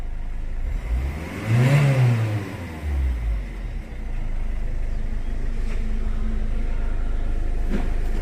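A Ford EcoSport's engine, just started after a no-start fault with diagnostic codes, revs once sharply and close, then settles into a steady low idle.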